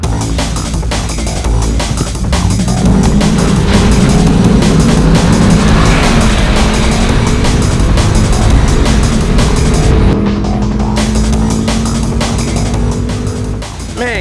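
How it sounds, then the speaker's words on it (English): A Land Rover Defender with an LS3 V8 roars through a hard 0-60 mph run, the engine note climbing through gears in loud rising sweeps with brief drops at shifts, close and dominant throughout. "I really wonder how much a 0-60 pull in one of these are gonna be"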